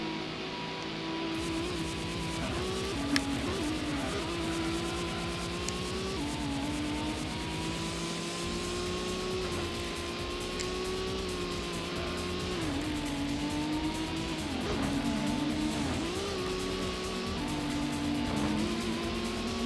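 Race cars in Gran Turismo on the PS1 during a 30-lap all-night race, a steady synthesized engine drone that rises and falls in pitch with acceleration and gear changes, continuous and without speech.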